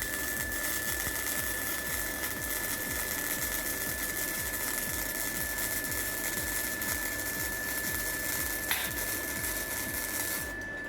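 An 80NOVA 100V welding machine welds 2.3 mm metal with a steady, close crackling buzz and a rapid rhythmic sputter throughout, plus a constant high whine and a brief click near the end.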